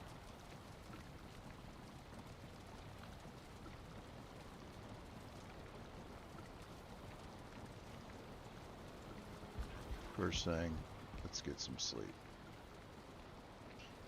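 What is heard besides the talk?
rain in the video game Valheim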